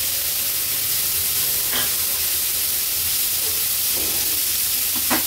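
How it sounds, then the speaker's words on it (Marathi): Spiny gourd and potato sauté in about two spoons of oil over a high flame, giving a steady, close sizzling hiss throughout with a few faint stirring scrapes. "व्यवस्थित मी ही परतून घेतली आहे हाय फ्लेमवरच"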